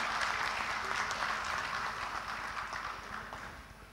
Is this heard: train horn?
no